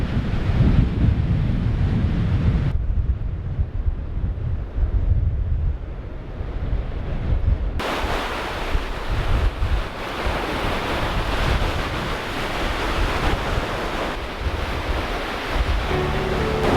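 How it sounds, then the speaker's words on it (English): Waves of the incoming tide wash onto a beach on the Firth of Forth facing Edinburgh, a steady close roar of surf with heavy wind buffeting across the microphone and no talk. "that's the tide coming in"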